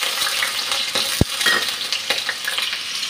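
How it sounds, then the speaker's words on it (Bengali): Potato pieces fry with salt and turmeric in hot oil, giving a constant crackling sizzle broken by stirring scrapes and one sharp clack of a utensil against the pan. "এখন আলুটা ভেজে নিচ্ছি"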